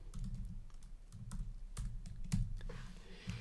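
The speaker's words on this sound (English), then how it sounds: "For my text, first thing I want to do is type in a name." Typing on a computer keyboard, heard as a steady run of close, soft key clicks over a low background hum, with no voices.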